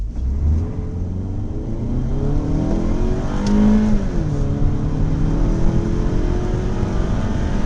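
A 2009 Toyota Matrix XRS front-wheel drive car accelerates hard, its engine note rising steadily in pitch as revs climb, with a brief shift-like dip before pulling up again; loud, close and continuous with no talk.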